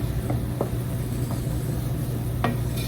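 A spoon scrapes and swishes through a pot of bubbling syrup for candied jalapeños a few times, close up, over a steady low rumble of boiling liquid.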